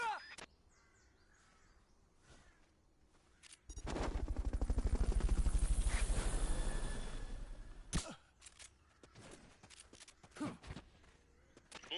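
The Fulton recovery helicopter in the Metal Gear Solid video game arrives as a loud, pulsing rotor chop that swells for about four seconds and cuts off sharply, with scattered game effects before and after.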